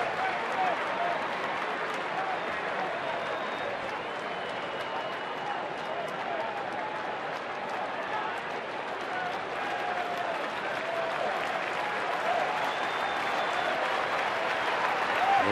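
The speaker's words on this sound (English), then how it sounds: "And the crowd rallying behind Felix Doubront with 2 outs in the 6th inning." A ballpark crowd at a Cleveland at Boston baseball game cheers and applauds steadily behind the pitcher with two outs in the sixth inning, a broad, sustained roar of clapping and voices at an even level throughout.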